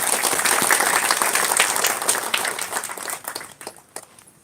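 Crowd applause at an outdoor political gathering in Amethi, loud and dense at first, then thinning into scattered individual claps as it dies away.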